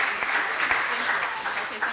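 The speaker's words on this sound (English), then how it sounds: "You can clap." Audience applause at an evening lecture, a moderately loud, continuous patter of many hands clapping with scattered individual claps standing out and faint voices mixed in.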